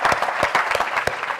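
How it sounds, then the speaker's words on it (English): An audience at a business technology awards launch event claps in a dense, steady round of applause, close and continuous with sharp individual hand claps. "Give them a great big round of applause."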